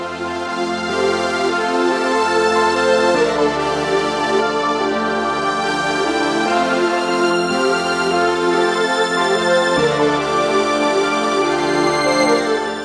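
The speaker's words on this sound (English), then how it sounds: "I added these strings." Layered strings play over a hip-hop beat's melody in a dense, steady mix that continues without pause, with no voice.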